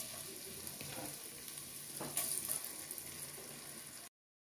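Chopped onion frying in reused fish-frying oil, a quiet even sizzle with light stirring scrapes, steady until it cuts off abruptly.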